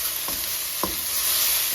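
Garlic is sprinkled into a pan of frying mushrooms and onion, setting off a steady bright sizzle with two quick clinks of a utensil against the pan.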